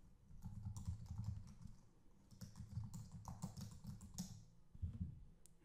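Typing on a computer keyboard while entering a password, quick bursts of close, quiet key clicks in two runs separated by a brief pause, with a few final taps at the end, no talking.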